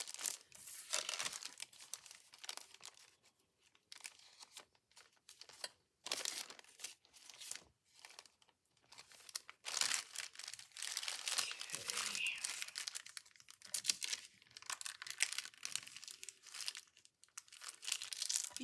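Paper crumpled and crinkled by hand while making journal bag pockets, a close, continuous rustling with bursts of crunching and brief pauses, no voice over it.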